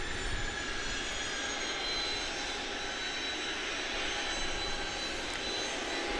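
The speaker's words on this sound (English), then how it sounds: "believe that's Cayman Airways flight number 2602 to Kingston," A Cayman Airways passenger plane at Grand Cayman airport gives off a steady, moderately distant jet engine roar with a broad hiss that holds for the whole stretch.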